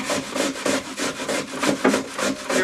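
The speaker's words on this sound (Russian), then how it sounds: "совершенно сырую свеклу и берем ее на средней терке, не самой крупной" Raw beetroot is rubbed against a medium grater in quick, rhythmic rasping strokes, each scrape close and distinct, with no talking.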